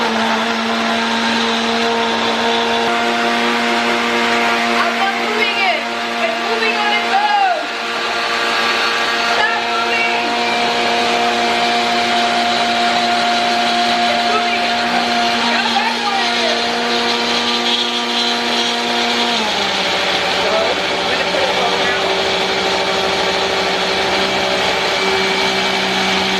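Blender pureeing a liquid-heavy mix of ingredients for micheladas, a loud steady motor whir with a high harmonic whine, running continuously and dropping pitch slightly near the end, with faint background voices.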